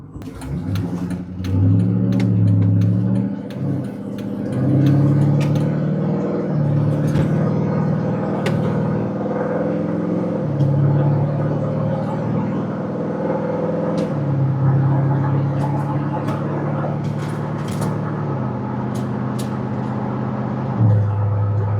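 Car setting off on a drive, steady low engine hum and road rumble with occasional gear-change dips and light rattles, heard from inside the cabin, no talking.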